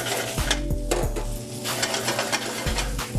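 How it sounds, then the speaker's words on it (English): Beef tossed onto a hot pan with sautéed onions, a steady close sizzle with scraping and stirring from a utensil and a few clanks of metal against the pan. "We're gonna toss in our beef."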